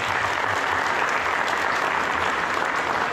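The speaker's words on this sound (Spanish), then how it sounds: "Fuerte el aplauso para él." A crowd at a community gathering gives loud, dense applause for the municipal president of Tlaltenango de Sánchez Román, Zacatecas, Dr. Miguel Ángel Romo Raudales, sustained evenly throughout.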